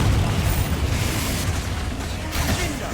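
A Confringo explosive spell blasts in the Hogwarts Legacy video game, a loud, broad burst of noise that keeps booming and crackling with a couple of sharper flares across about three seconds.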